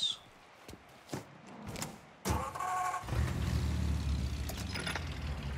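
In the Mafia remake video game, a car door thunks shut and the engine cranks and starts, then settles into a steady low idle. A few faint clicks come first.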